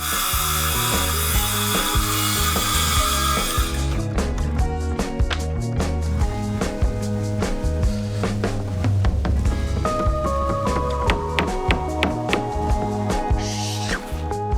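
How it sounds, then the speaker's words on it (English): Repeated hammer blows on a flooring tool knock a wooden floorboard into place up close in a cabin, a rapid, irregular series of sharp thuds and taps over a low rumble. "This flooring tool to get that bit over the top of the board and then hammer that part down"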